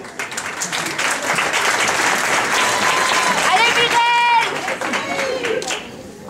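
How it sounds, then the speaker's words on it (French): Loud audience applause greets a pageant candidate at the Miss Saint-Denis contest, a dense clapping roar with cheers and whistles, then thinning toward the end as voices come through. "Candidate suivante, candidate numéro 5, sous vos applaudissements."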